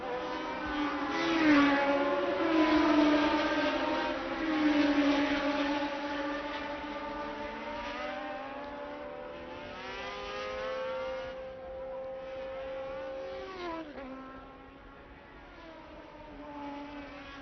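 Niki Lauda's Ferrari 312T Formula 1 car, number 12, racing at the 1975 French Grand Prix: a loud, sustained high-pitched engine wail with rising and falling gear pitch sweeps, a sharp drop near the end.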